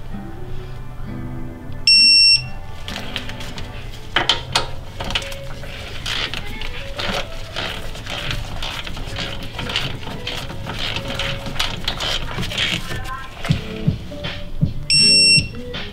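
A digital torque wrench on a BMW X5M F85 rear brake caliper emits a sustained beep near the start and another near the end, layered over steady music in the background.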